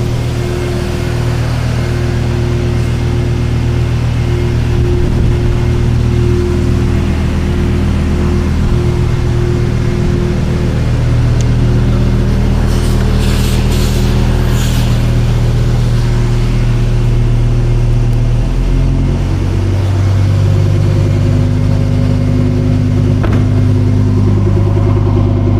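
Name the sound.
Lamborghini Huracan EVO engine revving in Corsa mode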